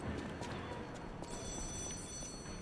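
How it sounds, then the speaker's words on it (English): A phone rings inside the video game Lies of P, a faint, steady electronic ring that starts partway through over a quiet, busy game background. "Oh, here we go. Phone call."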